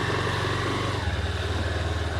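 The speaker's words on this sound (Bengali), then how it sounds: "গাড়িটা স্টার্ট করে নিই, বেরোচ্ছে এখন বাড়ি থেকে।" A Honda NX200 motorcycle engine runs at idle after starting, a steady close low rumble that settles slightly lower partway through, with no talk.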